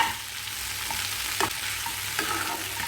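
Country chicken masala for Chettinad-style fry sautéing in a pan: a steady close sizzle with a few sharp scraping stir strokes, no voices.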